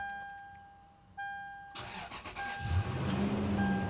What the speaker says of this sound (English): It's idling a bit rough, but started right up.